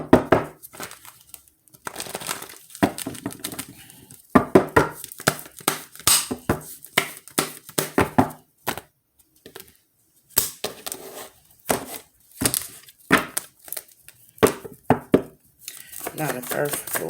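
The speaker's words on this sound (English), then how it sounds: "And I also pre-shuffle my cards" Tarot cards being shuffled, a long run of crisp riffling and slapping bursts that come in irregular clusters with short pauses, close and fairly loud.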